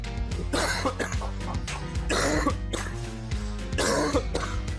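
A person coughing in repeated harsh bursts with throat-clearing, close and loud, in a domestic setting.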